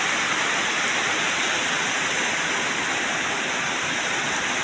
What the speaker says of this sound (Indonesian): inilah kondisi penampakan suasana hujan di areal pengerjaan kita, itu di kolam